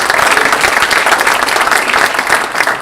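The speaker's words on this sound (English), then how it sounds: "just another final round of applause for Potomac Edison for their support" Loud, sustained applause from an audience at a Washington County Chamber of Commerce post-legislative forum, dense steady clapping filling the room with no speech over it.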